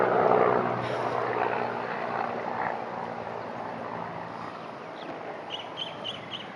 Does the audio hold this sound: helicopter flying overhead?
yes